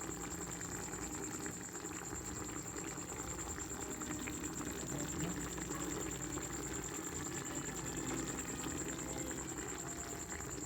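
Bulalo, a beef shank and knee bone broth with pechay, boils in a pot, a soft, steady bubbling and simmering hiss heard alone.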